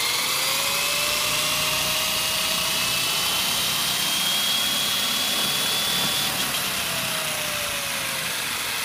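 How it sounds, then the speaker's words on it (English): A Traxxas X-Maxx electric RC monster truck spins its tires in place, giving off a sustained, loud high-pitched whine with a slowly rising and falling motor tone and a constant gritty roar beneath it. "So let me spin my tires because I'm leaving."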